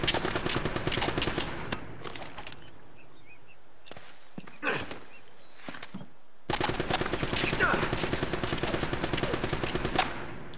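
Bursts of rapid gunfire in Uncharted: Drake's Fortune crackle in loud volleys, pause for several seconds with a few isolated shots, then resume in a sustained fusillade.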